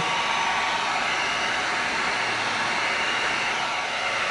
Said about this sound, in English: now we're gonna bring our heat gun in. Get a nice heat seal.